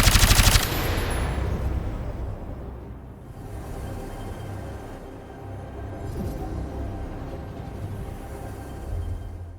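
Rapid automatic gunfire and explosions from an Unreal shooter video game, opening with a loud burst that gives way to sustained echoing battle noise and further shots, no speech.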